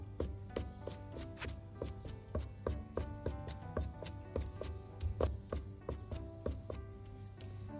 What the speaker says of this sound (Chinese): 然后再剁碎，